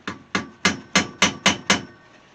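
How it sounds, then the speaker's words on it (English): Hammer strikes on a wood chisel prying open crushed stainless hood trim on a 1968 AMX: seven loud, evenly spaced metallic taps close up, each with a short ringing decay. "Use my wood chisel here, and it's got a pretty good angle on it. And I'm trying to open this crushed part,"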